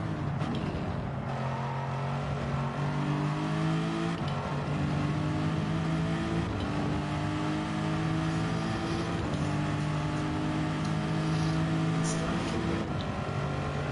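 A Lexus race car at a track revs hard toward the red line, the engine note climbing and stepping through repeated rising pulls, loud and sustained for about fourteen seconds.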